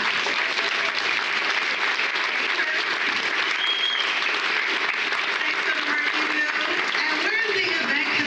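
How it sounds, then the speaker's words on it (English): A brunch audience gives the board of directors a steady, even round of applause that carries through the whole stretch, with scattered voices talking faintly beneath the clapping. "Give them a clap."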